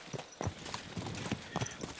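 A horse's hooves clop along in the video game Kingdom Come Deliverance 2, a steady run of close, fairly soft strikes over faint background ambience.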